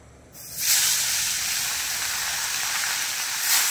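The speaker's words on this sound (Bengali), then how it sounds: "তেল গরম করে নিয়েছি কড়াই, আমি দিয়ে দিলাম ইলিশ মাছের দুটো মাথা" Two hilsa fish heads drop into hot oil in a wok and burst into a loud, steady, hissing sizzle that holds close and strong for several seconds after a quiet start, with no voices.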